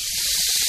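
A marinated catfish fillet sizzles loudly as it is laid into a hot, lightly sprayed grill pan, a dense continuous hiss that stays close and steady throughout.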